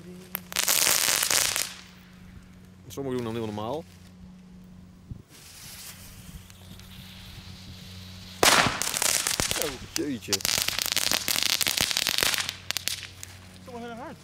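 Category 1 fireworks and firecrackers go off outdoors in a string of loud bangs and crackling bursts, some with whistling tails, across the whole stretch, with people talking between the blasts.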